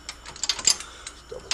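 A torque wrench tightening brake kit bolts on a 1957 Chevy Bel Air, with several quick close ratcheting clicks in an uneven burst.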